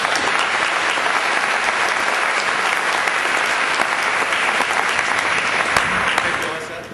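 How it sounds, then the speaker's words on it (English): Loud, dense applause from a large conference audience welcoming a speaker on stage, sustained and even for several seconds before beginning to taper off at the end. "So please welcome, with a round of applause"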